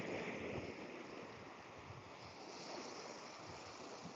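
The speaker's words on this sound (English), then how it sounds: "You just hear the noise of the sea." A steady, unbroken rush of sea surf on the coast of St Cast, Brittany, washes on without pause, fairly loud and close, with no voices.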